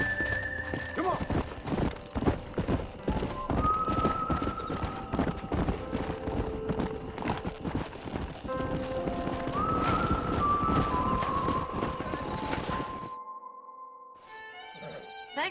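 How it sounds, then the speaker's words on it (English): Horse hooves clip-clop in a steady rhythm in the Red Dead Redemption video game, with tonal calls and whinny-like sounds over them before the clip goes briefly quiet and ends with a short burst. "We got some fine horses."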